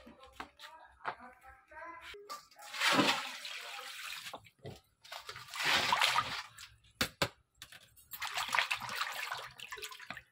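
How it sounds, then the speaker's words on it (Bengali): Bhetki fish fillets are washed under running water in a kitchen, with three separate splashing bursts of flowing water and short pauses between them. "ফিলেগুলো আমি ধুয়ে নেব"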